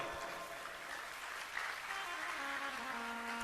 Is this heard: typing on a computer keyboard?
no